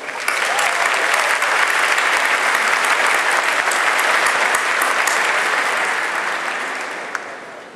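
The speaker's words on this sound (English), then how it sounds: "join me in a round of applause" A large crowd at the Georgia Republican Convention breaks into loud, sustained applause, a thick unbroken roar of clapping that holds steady before tapering slightly near the end.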